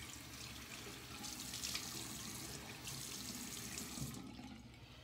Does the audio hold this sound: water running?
yes